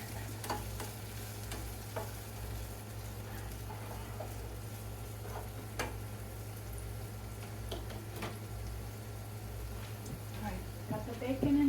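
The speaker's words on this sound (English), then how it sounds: "Alright, got the bacon in there." Bacon fries in a pan with a soft continuous sizzle and occasional pops and crackles, close but fairly quiet under a low kitchen hum.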